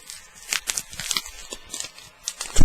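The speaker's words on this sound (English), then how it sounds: "A Twinings tea packet." Twinings tea packet crinkled and rustled close up, a run of sharp crackling bursts with short pauses, growing louder at the end, alone with no talking.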